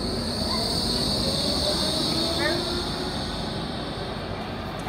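A tram rolls along its rails nearby, a continuous heavy rumble topped by a thin high wheel squeal that fades slightly toward the end.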